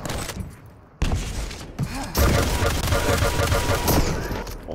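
Heavy machine gun firing in a Quake duel, a rapid, sustained stream of close, loud shots kicking in abruptly after a quieter opening, with a commentator talking over it.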